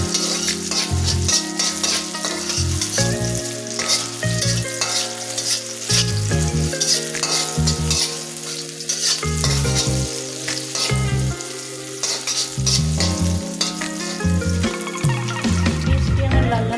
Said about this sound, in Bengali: ভালোভাবে পেঁয়াজ দিয়ে আমি লাল লাল করে ভেজে নেব।